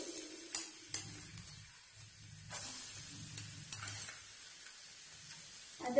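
Garlic sizzling in hot oil in a heated pan, several spoonfuls of oil, with steady frying hiss and scraping stirs repeating throughout, close and moderately loud, no voices.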